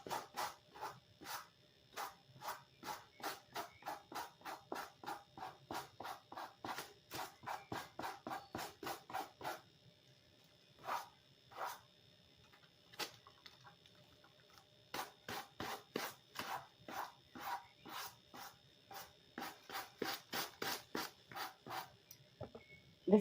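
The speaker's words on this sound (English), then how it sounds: "The sanding," Hand-sanding a paper lampshade coated with Mod Podge, a rapid run of short rasping strokes in a steady rhythm, with a brief pause in the middle, close and fairly quiet.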